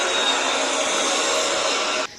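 Steady, loud broadband jet-engine roar of an airplane held throughout, with no talk, cutting off abruptly near the end.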